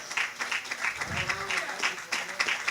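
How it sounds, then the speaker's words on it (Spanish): A church congregation at a Pentecost service claps in rhythmic applause with distinct, fairly quick hand claps, while a voice speaks over part of it. "Dele un aplauso al Señor."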